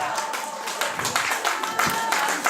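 Scattered clapping from a crowd at a year-end traditional Korean song association concert, steady and fairly close, with voices and chatter mixed in throughout.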